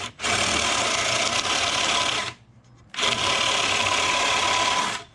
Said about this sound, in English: this is one of the things about it with soft wood. You get this, you get a different feel.